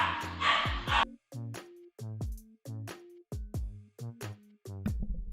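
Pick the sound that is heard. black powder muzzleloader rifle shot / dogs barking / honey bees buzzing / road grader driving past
dogs barking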